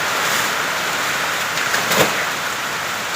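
Steady rain falls across a garden in the Philippines, a dense, even hiss that fills the whole clip with a slightly stronger patter near the middle, and no one speaks.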